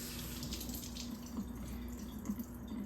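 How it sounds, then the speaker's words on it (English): A faint, steady trickle of room-temperature water runs through a coolant system part of a 2002 Land Rover Discovery 2, with a soft continuous flow and small drips over a low hum. "It's just a trickle of water"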